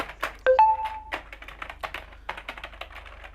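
Someone types on a budget semi-mechanical gaming keyboard, giving a run of close, light clicky keystrokes at an uneven pace, with a brief electronic tone near the start.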